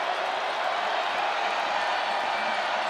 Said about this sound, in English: Crowd making some noise in Castle.